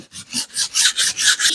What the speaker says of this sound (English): 120 grit's working really well